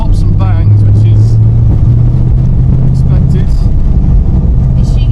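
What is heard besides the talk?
car engine pops and bangs, LS swap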